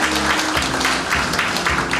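Audience applause at a Korean literary festival ceremony, a steady dense clatter of clapping sustained throughout, fairly loud and close, with no speech over it.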